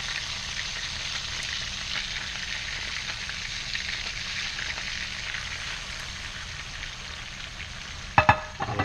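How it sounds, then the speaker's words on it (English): Trout fillets, halved into four pieces, frying in a pan of hot butter and oil: a steady, dense sizzle runs close and loud throughout, with a few sharp clatters of a utensil near the end. "our butter and oil mixture is nice and hot. We're going to go ahead and add the fish"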